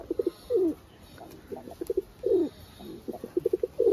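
Malwai and Regda pigeons coo close by in soft repeated bursts, with longer throaty rolls between shorter cooing notes, against a quiet background.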